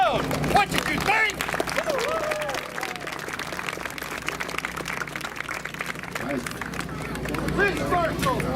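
A tournament crowd cheers and claps for the fighters, a broad wash of applause and hubbub with a few shouts rising above it, steady and fairly close throughout.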